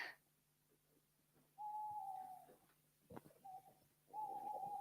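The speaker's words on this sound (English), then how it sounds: "Oh, only an owl." Owl hoots in a junior school stage production of Macbeth, sounding as a few soft, drawn-out tonal calls repeated with pauses over a quiet, low background hum.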